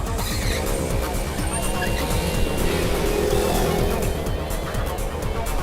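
A car driving fast in a Hindi-dubbed action film, heard as a loud, continuous roar of engine and road noise with a dense layered soundtrack on top, unbroken from start to finish.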